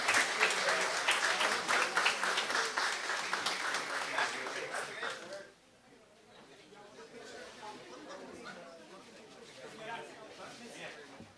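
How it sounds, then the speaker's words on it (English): A school board meeting audience gives loud applause for district counselors, with dense clapping that stops abruptly about halfway and gives way to low chatter and murmuring. "we can have one tremendous round of applause for all of our counselors throughout our district"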